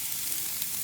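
A ribeye steak sizzles on a hot spot of a grill, a steady close hiss with faint crackle and no pauses, heard alone.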